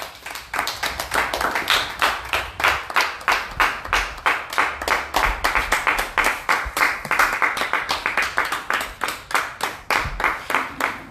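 A church congregation claps in a steady, rapid rhythm to acclaim Jesus, the dense clapping filling the whole stretch with a faint murmur of voices beneath.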